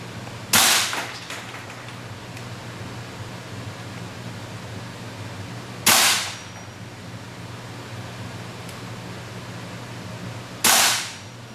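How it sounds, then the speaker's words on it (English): A WE M16 open-bolt airsoft rifle running on green gas and firing single shots on semi-auto, giving three sharp, loud cracks spaced a few seconds apart over a steady background hiss. "Now we use the .2 BB and green gas to test the FPS and rate of fire."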